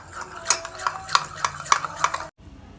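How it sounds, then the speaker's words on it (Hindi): Half a spoon of flour and water being mixed with a spoon in a small bowl, giving a series of light clinking taps and scrapes at a steady, irregular rhythm, close and moderately loud, with children's street noise faint behind. "इसे मिक्स कर लेंगे।"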